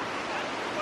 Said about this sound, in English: gonna give you guys one more awesome look at the falls